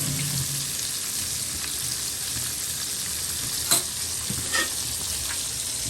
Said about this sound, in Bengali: এই তো পোয়া মাছ ভাজা হচ্ছে এখানে।